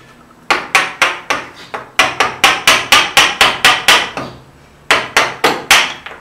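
Hammer tapping a chisel to cut out MDF in cabinet joinery, a fast run of sharp, close, evenly spaced knocks with two short pauses, no voices.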